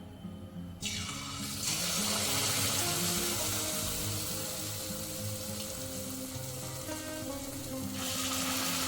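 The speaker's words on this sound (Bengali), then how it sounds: "এরকম একে একে আমি সবকটা গোকুল পিঠে ভেজে তুলব" Gokul pitha batter fritters fry in refined white oil, a bright crackling sizzle that bursts in after a brief quiet start and holds steadily close up, swelling again near the end.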